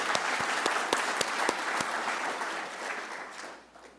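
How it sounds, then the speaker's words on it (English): An audience at a First Nations guardians gathering claps steadily, with a few loud distinct claps at first and then a wash of applause that fades out toward the end. "Let's round of applause there."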